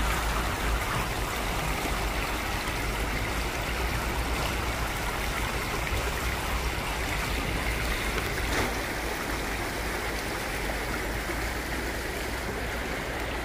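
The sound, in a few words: wide stream with flowing water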